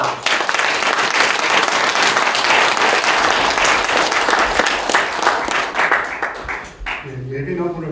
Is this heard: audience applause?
yes